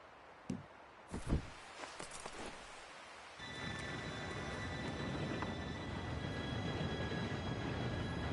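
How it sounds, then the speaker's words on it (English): A train in the Red Dead Redemption 2 video game approaches: a few scattered clanks and knocks give way to a building rumble with faint high metallic squeals, growing steadily louder. "Train should be here any minute now."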